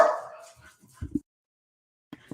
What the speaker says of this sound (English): And they hear the other dogs, so she's barking.